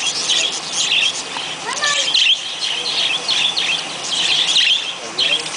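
Birds chirp and squabble at a feeder, a dense run of sharp tweets and calls close by over steady outdoor noise, with people talking quietly now and then.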